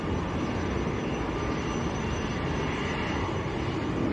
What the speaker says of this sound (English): very nice Challenger lining up right in front of us